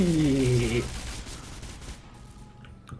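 A gun firing in the shooter video game SC2010 (XMAS 2015 version), heard as a dense, rapid burst of loud shots that blur together. A voice sounds briefly at the start, and the shots fade as the clip goes on.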